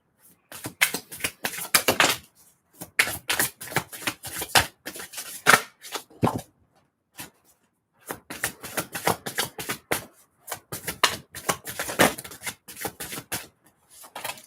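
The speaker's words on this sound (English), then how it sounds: "I was shuffling wrong." Tarot cards are shuffled in quick bursts of crisp riffling and slapping, close and clear, with two long runs broken by short pauses and no talking.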